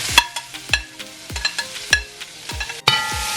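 Garlic, hot peppers and onion sizzling in a hot pan for Trinidad-style fried cabbage, crackling and popping in quick irregular bursts over a steady frying hiss, close and loud with no talk.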